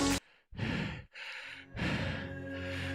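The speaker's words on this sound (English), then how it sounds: "I am very much out of breath." Heavy, loud breaths from someone winded after a cycling workout, in two long, rough exhalations separated by a short pause.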